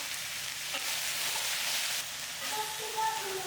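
Chillies roast in a little oil in a pan, giving a continuous soft sizzle and crackle with faint stirring, at close range and moderate volume.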